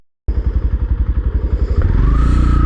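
A motorcycle idles close by with a loud, rapid, even putter, then opens up into a steady, full engine roar as the ride begins.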